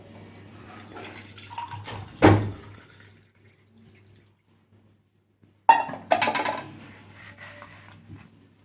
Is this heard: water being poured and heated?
yes